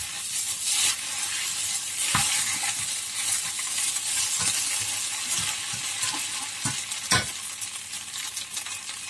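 Vegetarian drunken wide rice noodles stir-fried in a hot pan with black pepper: a steady, close sizzle broken by repeated scraping stirs and a few sharp utensil knocks, with no voices.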